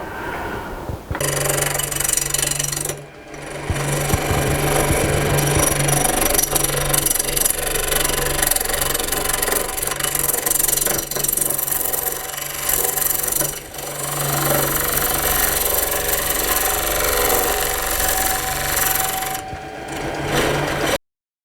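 A wood lathe faces off a bowl blank while a tool cuts a small tenon, a steady, loud whirring drone with a low hum that runs almost unbroken for about twenty seconds.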